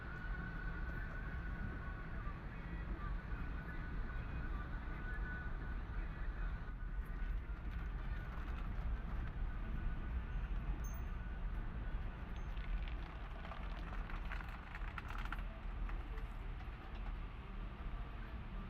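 Torrential monsoon rain in Chikkamagaluru, in the Western Ghats Malnad region, makes a dense, unbroken roar that holds steady throughout with no voices.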